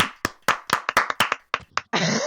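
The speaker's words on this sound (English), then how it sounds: "Clap, clap, clap." A run of about ten sharp hand claps in quick, slightly uneven succession, loud and close. A brief burst of broadband noise follows right at the end.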